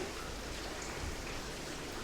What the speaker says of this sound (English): Oh, it's really raining outside.